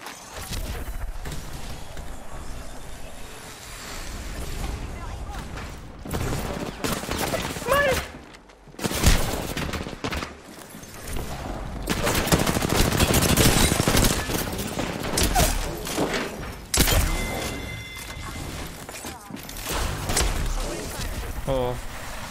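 Rapid bursts of video-game gunfire crackle through a noisy action scene, with repeated volleys and mechanical clatter layered over a dense background and voices talking throughout.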